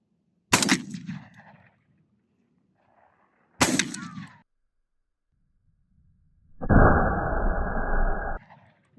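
Hunting gun fired outdoors: two sharp, loud shots a few seconds apart, each ringing out briefly, followed by a longer harsh burst of noise, with quiet between.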